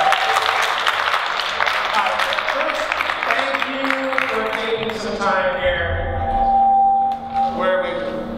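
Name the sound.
audience applause welcoming speaker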